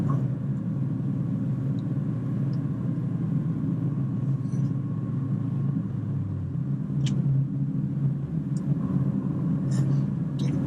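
A car engine brakes after a downshift while descending the Beartooth Pass mountain road, a steady low rumbling drone inside the car that holds level throughout, with faint clicks over it.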